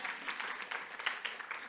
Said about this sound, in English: Oh, yeah, you can clap for her